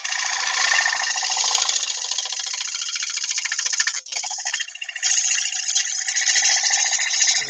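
A turning tool cuts a wooden bowl on a lathe, giving a loud continuous rasping, chattering whine with a short break midway before the cut resumes, close up and without speech.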